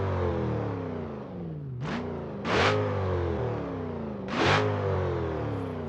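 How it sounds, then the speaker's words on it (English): A Dodge Charger with a 426 Hemi V8 in BeamNG.drive sits idling with a steady rumble, then is revved three times in sharp bursts, the second and third blips louder and rising in pitch before falling back to idle. "I'll give you a few revs."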